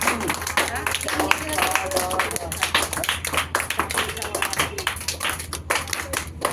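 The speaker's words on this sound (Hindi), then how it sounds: "तो प्रिंस के लिए ताली बजाओ।" Audience at an award presentation claps steadily and continuously for the winner, a dense patter of many hands indoors, with talk heard under the applause.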